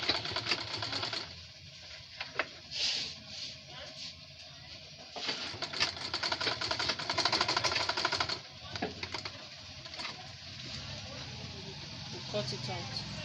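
A sewing machine stitching a cord onto a crossbody bag, its rapid mechanical chatter running steadily up close in several bursts, with a voice talking over it.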